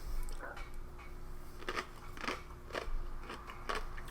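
Sharp crunches of someone biting into a crisp pickle, several bites spaced about half a second apart, close and fairly quiet.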